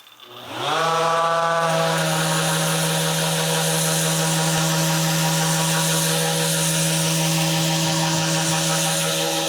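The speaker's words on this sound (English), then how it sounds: "now that I'm finished with sanding with 80 grit" A power sander runs on wood with 80 grit sandpaper, spinning up within the first second and then holding a loud, steady whine with a constant gritty hiss for the rest of the clip.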